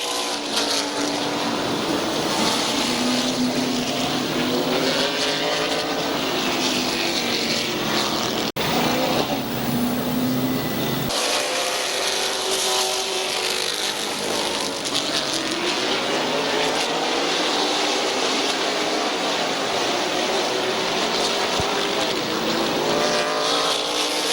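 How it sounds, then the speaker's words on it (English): Race cars at Midvale Speedway roaring steadily around the track as the field prepares to restart after a caution, engines droning loud and continuous with pitch sweeps of passing cars, heard from trackside. "Getting ready to go back to green, Bear Swartz, Mayo, Spence, and Bobby DeVore"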